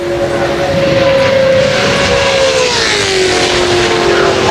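Darrell Waltrip's NASCAR stock car on a 2000 qualifying lap, its loud engine roaring steadily past with a slowly falling pitch, close and continuous under faint crowd noise.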